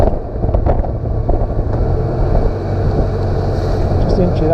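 A 1999 BMW K1200LT touring motorcycle rides along at low speed, its steady engine drone mixed with heavy wind buffeting across the microphone throughout.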